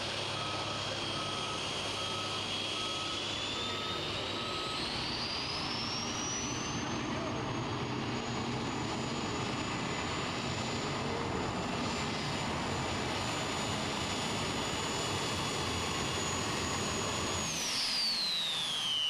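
A turbine-powered super modified pulling tractor screams down the track in Goshen, its high whine rising steadily and holding loud for most of the pull before winding down near the end, with a broad roar beneath.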